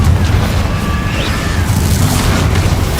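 Confringo fire spell explosions in the Hogwarts Legacy video game, a loud continuous rumbling boom with bursts, dense and sustained throughout without talk.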